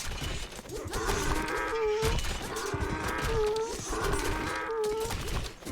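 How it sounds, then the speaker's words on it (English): Donkey-like braying sound effects from a Mythic Wars strategy video game match, repeating in three rhythmic honking cycles over steady battle noise, fairly faint in the mix. "the donkey noises you're hearing"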